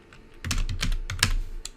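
A name is typed on a computer keyboard in a burst of quick, close keystrokes, uneven in rhythm and fairly loud, with no talking.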